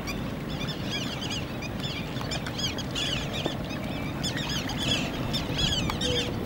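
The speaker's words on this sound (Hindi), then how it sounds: "ये एक विंटर टाइप के पक्षी हैं और ख़ास कर विंटर में ही आते हैं।" Winter migratory water birds at Lalpari dam make a dense chorus of quacks and honks, many overlapping calls at moderate distance over a steady background hum.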